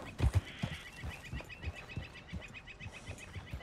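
A horse in the Western video game Red Dead Redemption 2 whinnies at the start, then its hooves thud in a steady, close gallop that slows slightly, with no talking.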